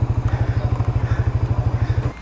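A big bike motorcycle engine at a port, loud and close, with a rapid, regular pulsing thump that stops abruptly near the end.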